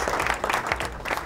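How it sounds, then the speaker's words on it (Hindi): A crowd claps steadily in dense, continuous applause, fairly close and loud, with no voices standing out. "आप सबको लिए बहुत सारी तालियों में।"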